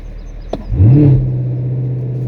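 A 2016-2019 Chevrolet Camaro SS with an automatic transmission launches hard using launch control. There's a sharp click, then the engine surges into a loud rising roar that settles into a steady, strong drone as the car accelerates.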